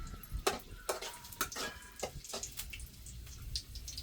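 Slit green chillies fry in oil in a pan, giving a soft continuous sizzle broken by scattered sharp spattering pops and clicks, close up with no talking.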